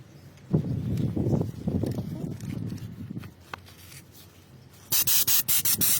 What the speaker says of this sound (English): Sand.